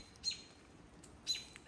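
A crow calls twice outdoors in the morning near a deer, each a short, faint, distant call about a second apart over a quiet background.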